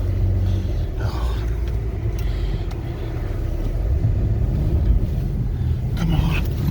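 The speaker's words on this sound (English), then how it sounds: "It's totally hitting rev limiter." A car stuck in deep snow after a blizzard with its engine held against the rev limiter, a loud sustained rumbling roar with choppy surges and brief interruptions, close and continuous.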